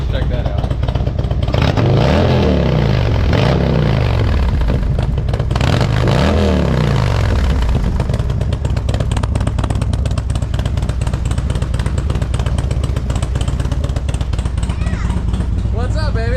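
A Harley-Davidson Street Glide motorcycle engine, which starts poorly and puffs black exhaust smoke when revved, revs twice in quick rising-and-falling bursts, then settles into a steady rumbling idle with clattering.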